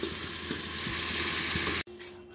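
Masala fries in a pan with a loud, dense, close sizzle and faint stirring ticks, then cuts off abruptly into a quieter, softer hiss for the final half second.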